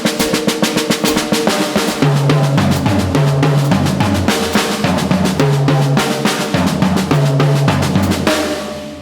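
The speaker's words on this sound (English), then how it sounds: "I'm going to put some orchestration in there to really support that 2 feel" A drum kit plays 8th note triplets, with kick and tom orchestration reinforcing a two-note grouping against the beat. Dense, loud, continuous hits sit over recurring low drum accents in a steady groove.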